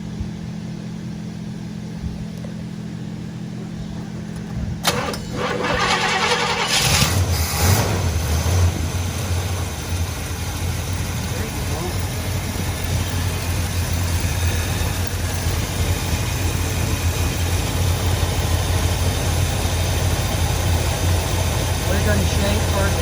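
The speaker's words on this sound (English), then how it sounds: "Okay, new carb, it's adjusted. Let's see how she runs." A barn find car fitted with a new carburetor cranks at about five seconds, catches and settles into a steady, loud idle that keeps running close by, with someone talking over it.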